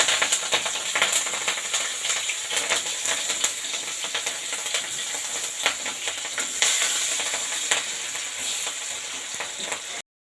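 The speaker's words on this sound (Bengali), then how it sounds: "এবারে তেলে পেঁয়াজ কাঁচামরিচ দিই।" Sliced onions and green chillies fry in the oil left after frying fish, a steady, fairly loud sizzle and hiss with scattered crackles and spatters close by, no voices over it.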